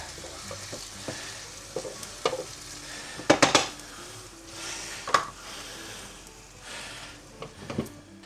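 A spoon stirs fried eggplant with coriander in a pan just after the gas is turned off, giving soft scraping sweeps, a few sharp clinks against the metal and a faint lingering sizzle, close and fairly quiet with no talk.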